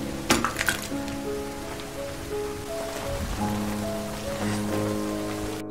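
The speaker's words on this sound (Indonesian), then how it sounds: "Lalu Farha memecahkan sesuatu untuk menadah air hujan agar lebih banyak mendapatkan air." Rainwater patters and drips onto surfaces while being collected in a container, steady dripping with a few brighter clinks and tonal drops, fairly close and alone.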